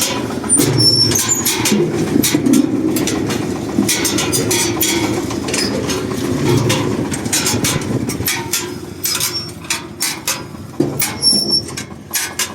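A Kentavr walk-behind tractor engine drones steadily and loudly nearby while the last potatoes are planted, with a constant rumbling mechanical hum and some rattling and clatter toward the end.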